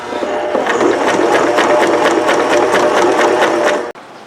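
A Janome sewing machine stitches steadily through the thick layered hem of jeans, a fast even mechanical whir and rattle that runs close and loud, then stops abruptly near the end.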